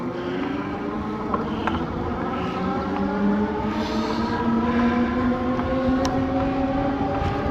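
A Fucare Gemini X ebike on a test ride gives a steady, loud motor whine whose pitch climbs and falls with speed, over continuous road and wind rumble.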